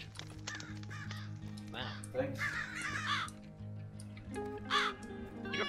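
Crows caw repeatedly in a Minecraft world over looping game music, with a few sharp bursts standing out while a person talks over them.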